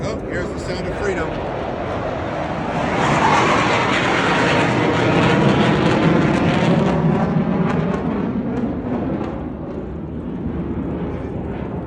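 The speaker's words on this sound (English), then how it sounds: "those were the F-15 Air National Guards" F-15 Air National Guard fighter jets pass overhead, a loud broad roar that builds, peaks in the middle and slowly fades, heard from outside near a boat's running generator.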